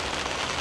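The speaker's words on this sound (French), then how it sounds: "Et là, il pleut." Rain falls steadily in a tomato garden, an even dense hiss close by without any voices.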